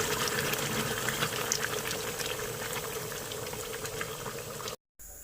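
Hot water pours onto fried Tunisian mloukhiya powder in a pot, a steady close hissing, bubbling rush that continues evenly, cut by a brief dropout near the end.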